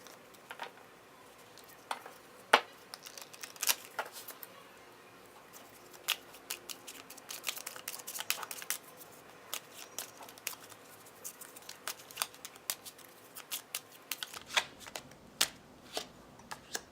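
A Wisdom of the Oracle deck by Colette Baron Reid being shuffled by hand, with soft repeated riffling and flicking card snaps, close and quiet, with no talking.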